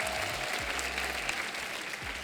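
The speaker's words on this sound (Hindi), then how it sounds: "एक बार जोरदार तालियां हमारे मेहमानों के लिए।" Studio audience on a comedy talk show bursts into loud, steady applause, a dense wash of clapping with low thumps of music or stage sound underneath, continuing throughout without speech.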